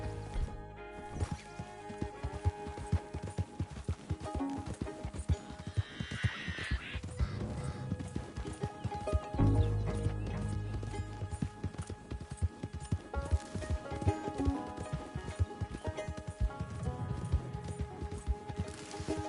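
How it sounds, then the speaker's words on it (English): A horse's hooves clip-clop in a rapid galloping rhythm in the video game Red Dead Redemption 2, with occasional snorts and whinnies over a faint musical background. "My horse ran away."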